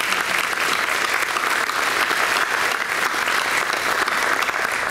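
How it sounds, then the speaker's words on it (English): A crowd at a university alumni reunion banquet applauds steadily for several seconds, a dense, even wash of clapping from many hands. "I think we should give her applause for that."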